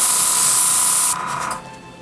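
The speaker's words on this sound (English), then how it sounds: "showing me spraying paint is about as exciting as watching paint dry" A loud, steady hiss of spray paint from a can coats a scale model starship, running continuously for about a second before cutting off and leaving a brief fading tail.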